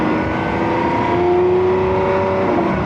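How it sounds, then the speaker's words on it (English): Naturally aspirated V12 of a Lamborghini Aventador SVJ revs steadily and loudly for about three seconds, a continuous engine roar with a rising whine in the middle and no voices. "Not too many things make as good a noise as a naturally aspirated V12 engine."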